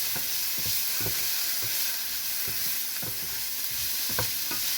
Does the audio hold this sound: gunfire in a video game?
no